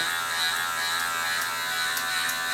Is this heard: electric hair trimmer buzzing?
yes